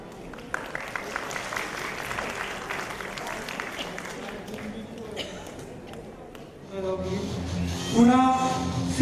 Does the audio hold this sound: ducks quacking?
no